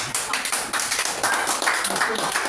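Audience applause at a lecture, a dense, steady patter of many hands clapping close by, lasting a couple of seconds.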